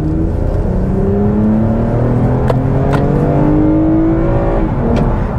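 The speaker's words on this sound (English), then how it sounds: "But it revs. I mean, it's a naturally aspirated V6." A 2021 Toyota Avalon TRD's naturally aspirated V6 engine runs steadily and its pitch climbs as it revs, rising gradually over several seconds, loud and close.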